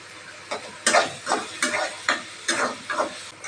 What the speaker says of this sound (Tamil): இப்போ நல்லா கொஞ்சம் ஃப்ரை பண்ணுவோம்.